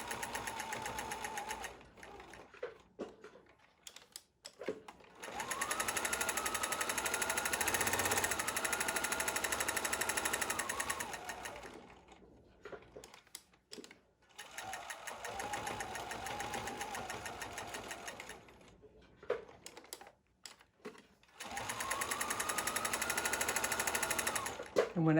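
Sewing machine stitching a homemade face mask, sewn with a guide on the presser foot. Three long bursts of loud, steady mechanical whirring, separated by quieter pauses with handling sounds and speech.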